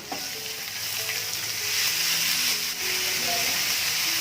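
Chopped onion hits hot oil in a pan and gives off a strong, steady sizzle and hiss, with small stirring clicks close up.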